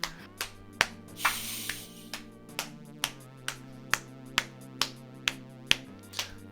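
Rhythmic sharp hand claps from a video game character in Moonblood, roughly a dozen crisp hits spaced about half a second apart over a steady game music bed.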